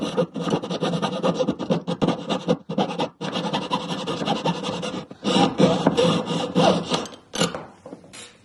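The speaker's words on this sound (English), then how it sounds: "we only need a little piece of tubing, so I'm going to cut it off right there" A small piece of metal tubing for a pearl cup ring setting is sawn by hand in quick rasping strokes, close and fairly loud, with brief pauses between runs of strokes.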